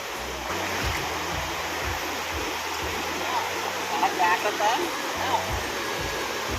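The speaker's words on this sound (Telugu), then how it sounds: "వాటర్ ఫాల్స్ వాటర్ ప్రవాహం సౌండ్స్ చూడండి ఎంత విపరీతంగా వస్తున్నాయో" Forest waterfall in dense jungle with heavy water flowing loudly, a constant broadband roar filling the scene, close and steady, with faint voices and brief chirping sounds over it.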